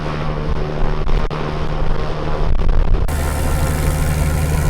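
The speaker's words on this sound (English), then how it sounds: "that right engine fired right up" The right engine of an abandoned airplane turns over and catches, a dense, loud, close mechanical roar with a sharp shift as it fires and settles into a steady running drone, no talking.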